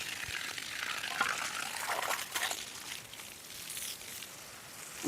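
Water splashes and gushes steadily onto the soil while cassava plants are irrigated in a garden plot, a moderate, continuous pouring sound with no voices.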